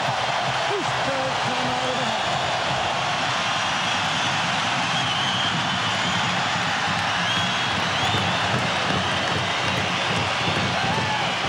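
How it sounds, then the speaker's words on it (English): A football stadium crowd at an Oregon State at Hawaii night game keeps up a dense, steady roar of voices that never lets up, with a voice talking faintly over the noise. "listen to this crowd"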